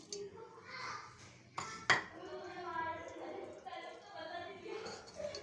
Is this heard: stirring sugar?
yes